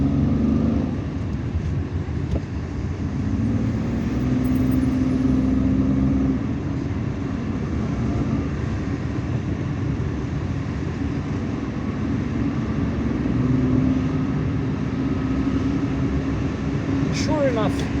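A car drives on a busy Algiers highway, National Highway 5, in rush-hour traffic, producing a steady low road and engine rumble with tire noise that continues throughout under a voice.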